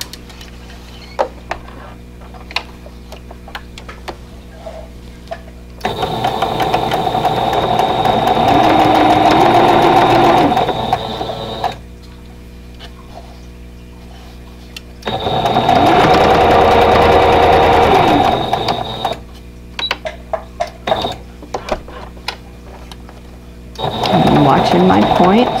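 Two long runs of a domestic sewing machine stitching a flying geese quilt block, each lasting several seconds, with a steady close hum. Quieter handling and brief taps fill the gaps, and a third run starts at the end.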